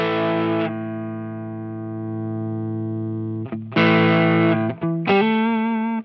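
Electric guitar through a Friedman IR-J preamp pedal with a boost engaged gives a distorted, mid-heavy tone: one long sustained chord, then a few shorter chords and notes, close and loud.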